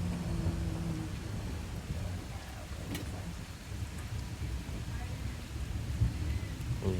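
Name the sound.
rain and thunder from a severe thunderstorm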